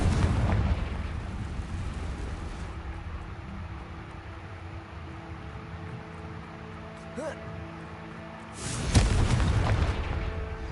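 A Confringo explosive curse from Hogwarts Legacy on PS5 lands as a deep boom over a rumbling game backdrop. A second loud burst follows near the end, and a voice talks faintly during the scene.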